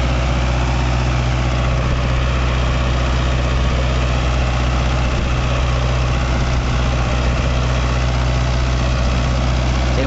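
A Mahindra Novo 655 tractor with a 65 HP engine idles steadily nearby, a constant low diesel rumble with vibration that holds even for the full stretch, with no talk over it.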